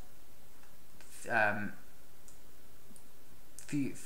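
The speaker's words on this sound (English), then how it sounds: "I click on apply" A mouse click on an apply button while working in NinjaTrader 8 trading software, two brief, quiet sounds spaced a few seconds apart against a faint background hiss.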